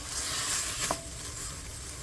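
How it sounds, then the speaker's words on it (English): Ingredients for a Chettinadu fish curry paste sizzle steadily in a pan, with a brief stir of the spoon partway through and no voices. "So saute it well"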